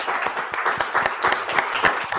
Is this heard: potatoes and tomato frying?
no